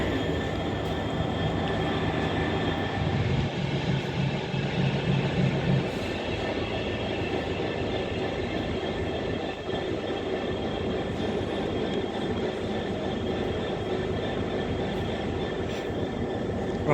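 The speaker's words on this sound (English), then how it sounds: "Pendolino just passing through there" A Pendolino train runs through Nuneaton station with a loud, steady rumble and wheel roar that fills the whole passage, along with a brief tonal hum early on.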